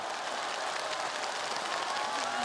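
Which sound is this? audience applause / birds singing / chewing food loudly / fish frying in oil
audience applause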